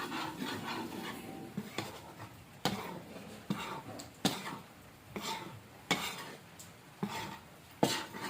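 Glutinous rice being dry-toasted and stirred in a pan for espasol, a steady scraping and rubbing with a sharp utensil knock against the pan about every second, close and alone.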